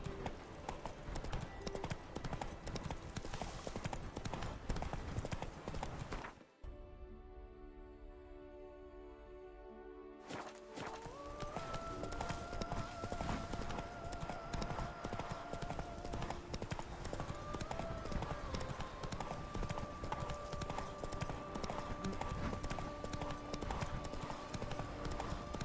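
Horse hooves clip-clop steadily over ground in The Witcher 3: Blood and Wine, a continuous close trotting rhythm under game music, with a short quieter stretch in the middle.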